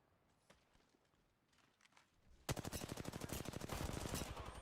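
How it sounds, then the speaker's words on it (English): After a couple of seconds of faint background noise, a video game automatic weapon opens up in a loud, rapid stream of evenly spaced shots that keeps going to the end. "Taking fire, friend."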